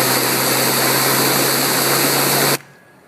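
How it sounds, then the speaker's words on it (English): A Stinger duct cleaner head spins with a loud, steady high-pitched whine and broadband rushing noise that cuts off abruptly near the end, leaving quiet. "And you should get the highest pitch whining sound."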